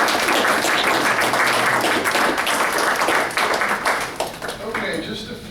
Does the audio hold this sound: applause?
yes